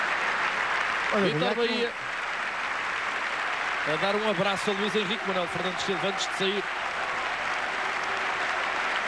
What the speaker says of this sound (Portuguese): Muito aplaudido o Vítor Bahia a sair, o guarda-redes do Futebol Clube do Porto.